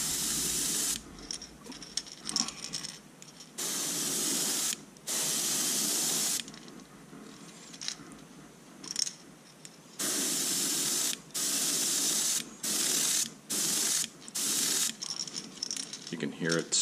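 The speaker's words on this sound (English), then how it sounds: "You can hear it sputtering a little bit, but that's okay. I think that's because of the low air pressure." An airbrush sprays color shifting paint in repeated bursts of loud, steady hiss, each lasting a second or two with brief gaps between, sputtering slightly from low air pressure on a second coat.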